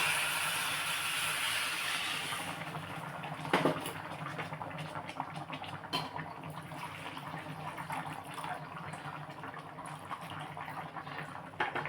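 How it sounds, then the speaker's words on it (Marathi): Hot water is poured from a vessel onto rice for masala bhat, beginning with a steady rushing splash that eases into a quieter, uneven trickle and bubbling, close by. "मी एक भांड आणि अजून अर्ध असं पाणी घालून घेतलेलं आहे"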